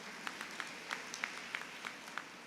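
Audience applause at a women's association conference debate (pattimandram), heard as scattered, fairly faint claps spread across the room at an uneven rhythm, with no talking over them.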